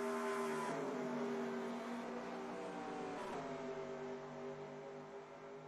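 Stock cars racing at Talladega in a video game: a loud, continuous multi-car engine drone with shifting whining tones as cars shift and pass, a brief surge near the middle, fading gradually toward the end.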